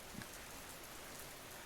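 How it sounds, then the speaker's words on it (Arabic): Gentle rain falls on a quiet night as a steady, soft hiss of drops on a surface, faint and even throughout, with no talking. "كانت ليلة هادئة والسماء تمطر برفق"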